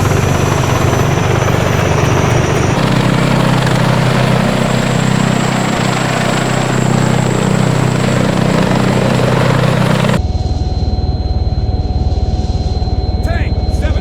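A helicopter in the ARMA 3 military game gives a steady, loud rotor and engine drone that fills the first ten seconds under narration, then cuts to a quieter scene.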